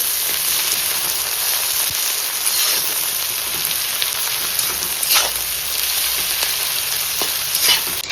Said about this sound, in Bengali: পেঁয়াজটা ভালো করে ভেজে নিতে হবে লাল লাল করে